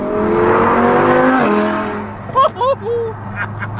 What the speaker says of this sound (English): I'm in Mike's BMW listening to my car for the first time. It's so much louder